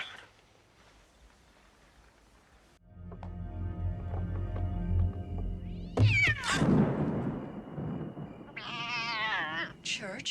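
Cats meowing and caterwauling in a scare montage from the 2019 film Cats, quiet at first, then loud drawn-out yowls and meows over swelling music and rumbling effects.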